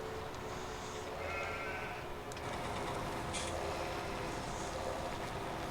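Sheep bleat in Farming Simulator 17 on PS4, a few short calls over a steady farm ambience with a low machine hum throughout.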